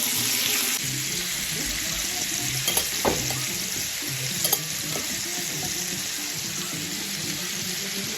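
Meat frying in a hot pan for carne en su jugo, a steady loud sizzle with stirring scrapes and a few sharper clatters, no talking.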